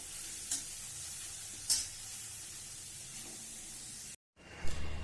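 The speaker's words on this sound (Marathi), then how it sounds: "आता हलवून घ्यायचं आपल्याला." Jaggery carrot halwa sizzles in a pan under a steady, close hiss, and a few soft scrapes come from stirring. The hiss cuts out briefly near the end, then returns with another scrape. Nobody speaks.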